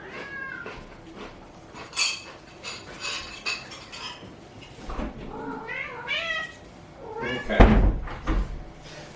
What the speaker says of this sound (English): my little cat brought me a little toy he wants to play